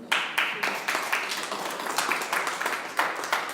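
A church congregation breaks into applause, with rhythmic bursts of hand clapping landing roughly every quarter second. The clapping stays steady and moderately close, with a faint murmur of voices underneath.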